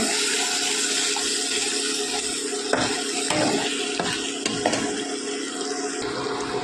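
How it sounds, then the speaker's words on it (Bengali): Katla fish pieces and onions fry in oil in a pan, giving a steady, loud, close hiss with a few soft scrapes of a spatula moving them around. "এভাবে একটু নাড়াচাড়া করে নেব।"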